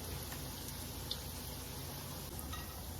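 Akara bean fritters frying in oil make a quiet, even bubbling sizzle heard from a distance, with a couple of faint ticks and no one speaking.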